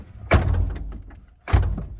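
The rear door of a 1994 Chevy Suburban is worked twice, giving two loud, close thuds about a second apart with a short rattle after each and no talk.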